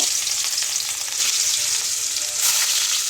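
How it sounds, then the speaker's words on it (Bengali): Hilsa fish frying in hot oil for mustard hilsa, a steady dense sizzle crackling throughout at close range with no talk, brightening briefly near the end. "মাছটা আগে ভেজে নিব।"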